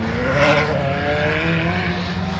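A Lamborghini Murcielago supercar launching down a runway, its engine note rising loudly in a sustained climbing roar, close and without talk.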